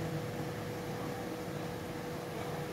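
A steady, even whir of an electric fan runs throughout, a constant broadband hum with no breaks or changes.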